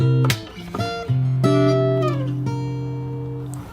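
A bar of a fingerstyle guitar arrangement of a song is played close and clear, with a few plucked notes and chords whose tones ring out and decay slowly, and no voices.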